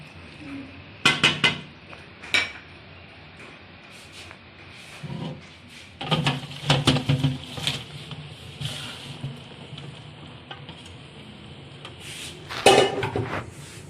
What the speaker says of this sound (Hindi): अब मैं इसको ना जो पानी है ना इसका छान लेती हूँ।